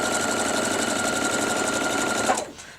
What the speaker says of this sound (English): I'm going to go ahead and sew the second strip as well here